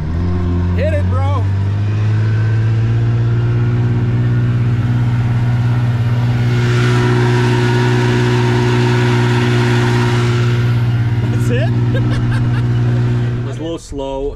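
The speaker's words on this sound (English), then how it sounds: "we've never taken her full throttle yet, so let's see what that may look like" Twin outboard motors on a restored 1957 trailerboat run at full throttle, a loud steady drone with a strong low hum and a rising roar of water rush, held for many seconds before easing off at the end.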